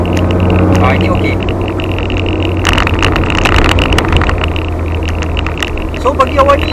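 A running Toyota 3S engine rumbles steadily with a low exhaust drone, moderately loud and constant, while a person talks over it.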